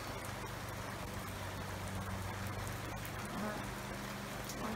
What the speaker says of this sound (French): Ça pleut bien